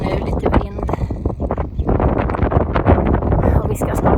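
Strong gusty wind on a Swedish Lapland mountaintop near Hemavan buffets the microphone in loud rumbling bursts, with a person speaking intermittently through the roar.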